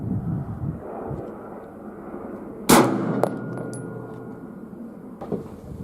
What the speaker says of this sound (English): Glock 17 9mm, this time with Fiocchi subsonic ammo and unsuppressed